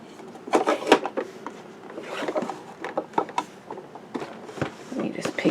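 Drawers on a toy cooking island slide open and shut several times, giving soft plastic clacks and scrapes up close. A person speaks quietly in between the sounds.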